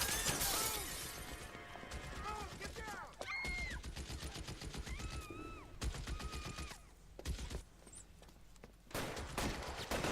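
A video game shootout in LA Noire, with rapid bursts of gunfire, shattering and mechanical clatter, interrupted by whistling, ricochet-like tones and a few short pauses.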